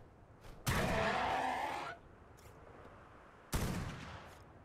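Two sharp gunshots in the video game ARK: Scorched Earth, the first a long roaring blast and the second a shorter crack about three seconds later, loud and alone.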